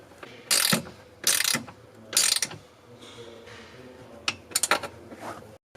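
A ratchet tightens a nut onto a tow mirror stud on a 1999-2002 Silverado or Sierra, giving several short bursts of close, loud clicking with pauses between them.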